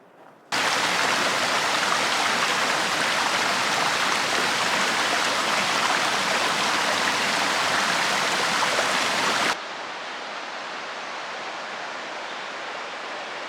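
Bear Creek, a forest stream on the Pacific Crest Trail, rushes in a steady, loud, even wash of flowing water close by, then drops abruptly to a softer, more distant burble.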